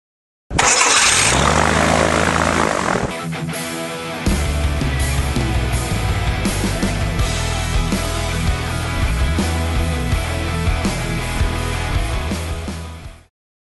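A home-built aircraft's propeller engine cranks briefly, catches and roars into a loud, steady run, holding at a constant throttle before cutting off.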